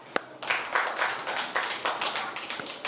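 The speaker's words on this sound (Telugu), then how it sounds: "క్లాప్స్." A group of children claps in a classroom in repeated uneven bursts, sharp slaps gathering into short rounds, fairly close with a little background murmur.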